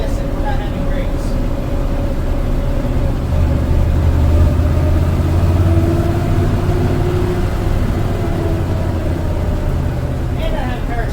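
A 1965 Dodge Van engine drones loud and steady while driving, a continuous low rumble with road noise and no pauses, heard from inside the cabin.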